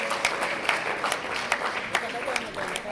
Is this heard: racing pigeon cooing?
no